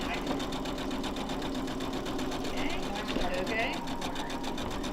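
Sewing machine stitching fabric during an intro sewing class, a steady fast mechanical whir and rhythmic needle chatter running continuously, close and even, while a person speaks briefly over it.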